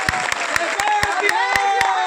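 An audience claps at a political speech: steady, rhythmic claps at about four per second run beneath a voice addressing the crowd.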